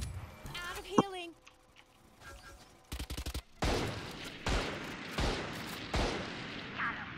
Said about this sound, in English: Who's shooting all that?